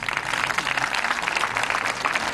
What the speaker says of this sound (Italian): Vorrei un applauso per salutare.